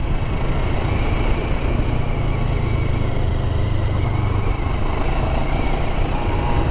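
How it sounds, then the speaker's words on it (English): A CF Moto 700 CLX motorcycle rolls in low gear under engine braking, its engine droning in a steady, low, continuous hum mixed with wind rush, loud and close throughout. "let the engine do the rest for you in this here low gear"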